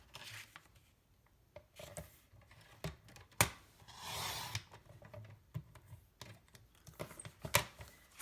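Cardstock being cut for greeting cards gives scattered close taps and clicks of the trimmer, with one longer rasping slice of the blade through the paper in the middle, all fairly faint.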